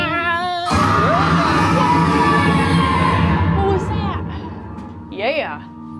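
People in a haunted attraction yell and scream loudly and continuously at close range, with overlapping shouts and excited voices through most of the clip, then a brief quieter stretch and one more sharp cry near the end.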